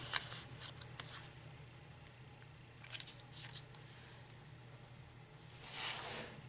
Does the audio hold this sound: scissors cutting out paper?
yes